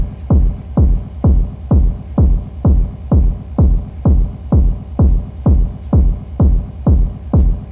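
Kick drum under a low filter and EQ thumps in a steady four-on-the-floor run of about sixteen hits, each deep, muffled and rounded, loud and alone with no voices.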